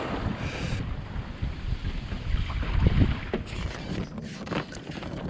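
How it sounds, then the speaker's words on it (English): A sailboat runs south before the wind on an ocean swell, with wind rushing over the microphone and waves swishing and splashing against the hull. "here we are sailing south on a nice swell, wind behind us"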